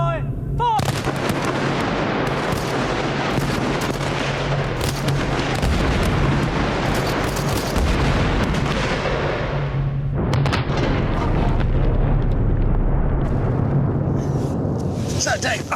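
Heavy naval guns aboard the aircraft carrier HMS Illustrious fire round after round, a dense, continuous barrage of booming blasts with rumbling low-end that keeps going for the whole stretch, with a voice shouting faintly amid the noise.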